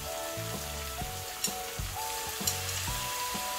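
A steady, continuous sizzle of vinegar poured into a hot frying pan, with faint stirring clatter and occasional soft pops, close and even throughout without any voices.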